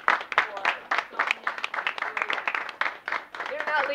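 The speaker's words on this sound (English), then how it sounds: "how about a round of applause" Scattered clapping from an audience at a college student awards ceremony rises in quick bursts, with voices talking over and between the claps.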